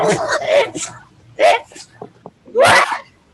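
A person on a Zoom call lets out a sharp sneeze amid bursts of other vocal noises, loud and close, with people talking around it.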